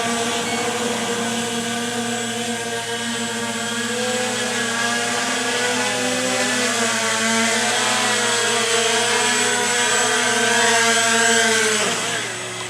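A Scout X4 quadcopter drone hovers close by in loiter mode and then settles in to land, its steady loud whine of spinning propellers holding throughout before dropping away right at the end.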